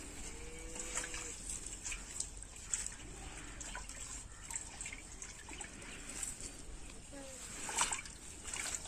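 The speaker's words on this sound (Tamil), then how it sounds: "சட்டி ஒரு கழுவு கழுவி" Water trickles and splashes while a cooking pot is rinsed outdoors by a well, a steady wet dribble with occasional splatters, close by, with faint voices in the background.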